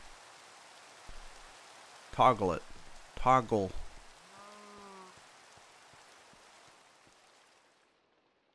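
Steady soft rain in a Minecraft world, a constant hiss that runs beneath two short bursts of speech and a brief tonal game sound, fading out toward the end.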